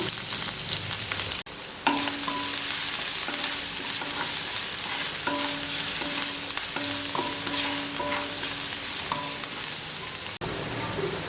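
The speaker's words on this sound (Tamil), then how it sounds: "கடுகு நல்லா பொரிஞ்சதும் கருவேப்பிலை சேர்த்துக்கலாம்" Steady sizzling and crackling of mustard seeds, curry leaves and chopped garlic frying in hot oil fills the clip, with occasional stirring clinks and scrapes.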